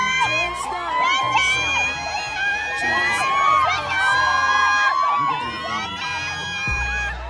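A large crowd of K-pop fans at a fan event screams and cheers continuously and loudly, with shrill high-pitched voices shouting a singer's name in overlapping waves throughout.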